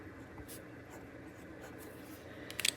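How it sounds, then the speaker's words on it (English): A pen writing a word on a paper surface, soft scratchy strokes close by and fairly quiet, ending in a few sharper taps, no talking. "So I'm going to write child on here."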